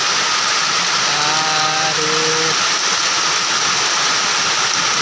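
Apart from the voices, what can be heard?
heavy rain falling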